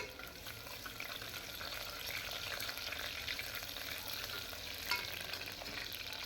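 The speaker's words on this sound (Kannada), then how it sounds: "ಅದೇ ಈರುಳ್ಳಿನ ಹಾಕ್ಬಿಟ್ಟು ಇಲ್ಲಿ ಚೆನ್ನಾಗಿ ಬಾಡಿಸ್ಕೊಳ್ತೀನಿ" Continuous crackling sizzle of chopped onions frying in hot oil, with occasional stirring scrapes and no talking.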